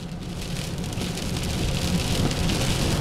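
Heavy rain during a bomb cyclone pours down in a loud, dense, continuous roar of drops hitting surfaces, steady throughout with no voices.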